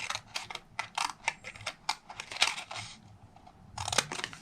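Scissors snip by hand, likely through fabric, in a quick irregular series of close, crisp clicks, pausing briefly before a final cluster of cuts.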